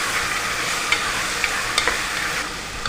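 Vegetables and potatoes fry in a pan as a loud, steady sizzle, with several sharp clicks of stirring or utensil taps scattered across it and no speech.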